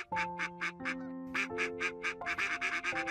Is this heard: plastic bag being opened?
no